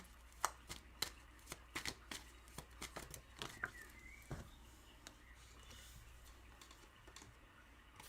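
Tarot cards are shuffled by hand close by, a run of quick soft riffles and taps in an uneven rhythm, fairly quiet, with no one speaking.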